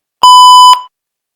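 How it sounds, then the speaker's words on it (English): A single clear electronic beep from a smart-home motion sensor, a sharp onset holding one steady high tone for about half a second before a brief tail, loud and alone in silence. "it's beep when someone in the room or motion is detected"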